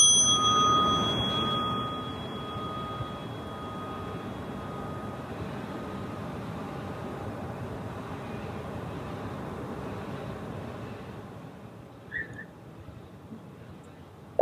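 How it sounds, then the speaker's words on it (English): A single bell is struck once at the start of a centering exercise, and its ring sustains and slowly fades over many seconds in a quiet room. "close your eyes to hear the sound of the bell"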